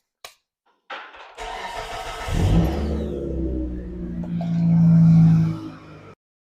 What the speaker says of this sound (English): let me crank the car